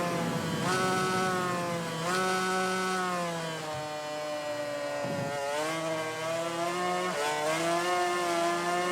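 A 500cc two-stroke racing motorcycle in MotoGP 19 on a wet track, its engine screaming loud and steady as it revs up through several gear changes, with brief dips between shifts.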